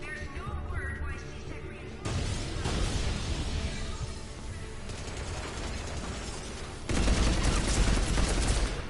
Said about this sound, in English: this gun just shreds them